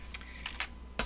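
A few quiet, separate keystrokes tap on a computer keyboard in short, irregular clicks.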